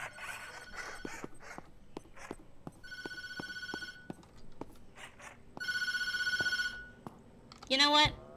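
A telephone rings in the horror video game Tattletail, sounding in repeated trilling bursts with pauses between them, mixed with sharp game clicks and thumps.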